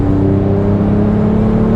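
A sports car's engine drones steadily and loudly while driving, a low, continuous hum with a whirring tone and no talk.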